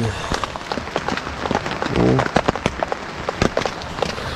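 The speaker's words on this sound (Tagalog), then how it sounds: "Fortunately, malakas yung ulan." Dense patter of heavy rain drumming on a taut tent roof overhead at a campsite, constant and close, with a voice speaking briefly under it.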